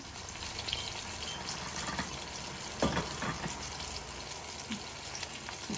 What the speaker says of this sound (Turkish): koydum orada kızartacağım hemen